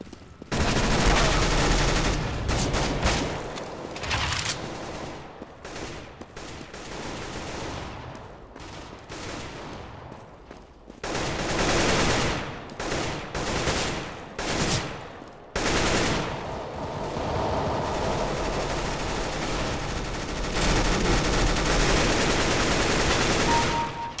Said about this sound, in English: I used my whole clip to end that guy.